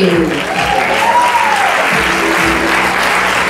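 An audience claps steadily at a live stage play, with continuous, fairly loud applause throughout and faint voices mixed in.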